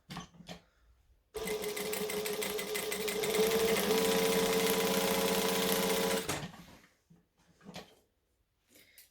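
A sewing machine stitches quilting on a pattern piece, a steady fast whirring run of about five seconds, close and clear, with a few knocks and handling sounds before and after.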